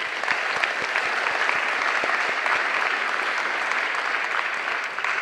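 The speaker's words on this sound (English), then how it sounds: "I want to just give them a round of applause" Applause fills a hall at a senior pinning ceremony, a steady, even roar of many clapping hands that holds for the whole stretch without pause, with no talk over it.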